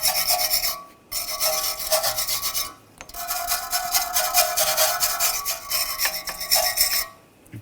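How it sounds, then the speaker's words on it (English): A wire brush scrubs the brake shoe contact points on the parking brake backing plates of a 2007-2013 BMW X5, giving three bursts of close, loud, steady rasping separated by brief pauses. "you just want to take a wire brush, clean these up a little bit"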